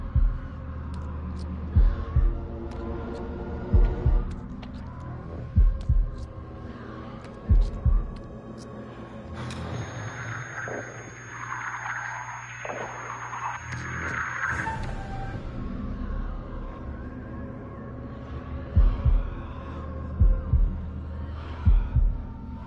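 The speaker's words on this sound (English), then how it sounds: "Heartbeat wild." A heartbeat sound effect in the horror game House of Ashes, slow heavy paired thumps pulsing over a low droning hum, interrupted midway by a swelling rumbling ambience before the beats return.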